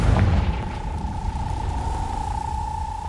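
A Confringo spell explodes in Hogwarts Legacy, opening with a loud, low boom that decays into a sustained rumble and a steady ringing whine, with no voices.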